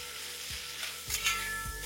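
Onions frying down to brown in a pan for mutton masala curry, a steady close sizzle with a couple of soft stirring scrapes through it.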